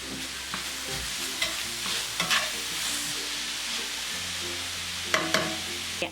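Lobster masala ingredients sauté in a pan with a steady, close sizzle, while a utensil stirs and scrapes in a few distinct bursts over the frying.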